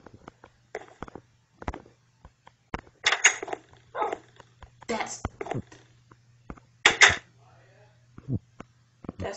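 Minecraft wolf barking in a video game, a series of short sharp yips and barks in irregular bursts, fairly close and loud over a steady low hum.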